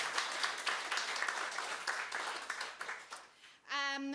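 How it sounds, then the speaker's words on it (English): A crowd claps steadily in sustained applause that fades out, followed by a brief burst of voiced sound at the end. "get a big round of applause for everyone that performed this evening"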